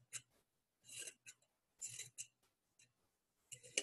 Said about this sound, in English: Cutting with their scissors pointing away from them.